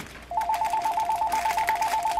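A telephone ringtone starts abruptly and keeps going as a steady, rapid electronic pulsing trill, moderately loud and close, with no voices.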